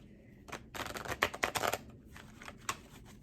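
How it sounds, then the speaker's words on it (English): Tarot cards being shuffled by hand close up, a quick run of crisp riffling and flicking bursts in the middle followed by a few softer card snaps, with no talking. "Hang on one second while I shuffle."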